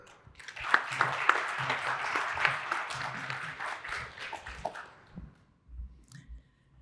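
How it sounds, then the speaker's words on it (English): Audience applause welcoming a speaker onto the stage at a climate and wildfire talk, a dense round of clapping that lasts about five seconds and then fades to scattered claps. "Please give a round of applause for Kira."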